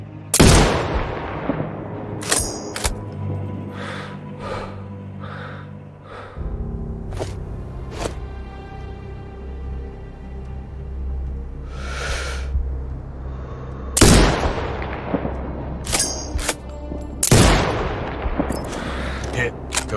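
Sniper rifle shots ring out in Sniper Ghost Warrior Contracts 2, several sharp, loud cracks spaced irregularly over a low, droning game ambience with occasional softer mechanical clicks between them.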